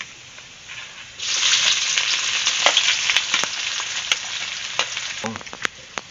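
Garlic and then onion sautéing in a hot pan for a big pot of sisig, a loud steady sizzle that jumps up as the ingredients go in, with scattered clinks and scrapes of a utensil and no talking.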